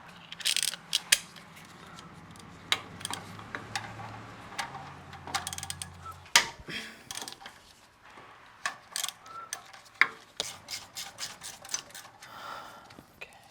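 Rapid ratchet clicks in bursts, interspersed with metallic clanks, as 14mm nuts are backed off the studs on a 2022 Subaru WRX during a J-pipe install; close and fairly quiet, with a low hum early on.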